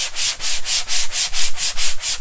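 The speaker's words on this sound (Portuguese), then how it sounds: "Eu prefiro passar a lixa mais uma vez" Sandpaper rubbed over a gesso-coated MDF board, about nine loud, even back-and-forth rasping strokes in a steady rhythm, close up with no voices.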